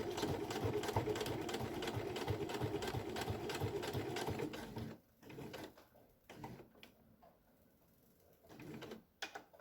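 A sewing machine runs steadily and fast while stitching a school pencil case, then stops, leaving quieter handling noises and a few brief clicks.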